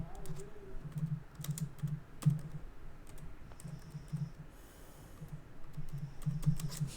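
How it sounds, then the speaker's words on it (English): Someone types on a computer keyboard, producing faint, quick runs of soft key clicks in short bursts against a quiet background, with no voices. "when we type out Friday the 13th"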